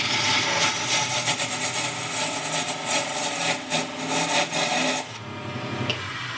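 Parting tool cutting into wood spinning on a wood lathe, a continuous close rasping scrape that thins out near the end before dropping off; no talk.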